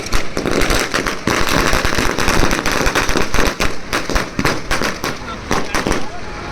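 Firecrackers burst in a dense, rapid barrage during a Ganesha immersion procession, loud and close, crackling continuously for several seconds with sharp pops layered over a noisy crowd.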